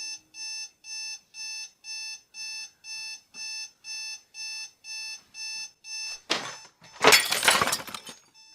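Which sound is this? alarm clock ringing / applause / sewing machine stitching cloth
alarm clock ringing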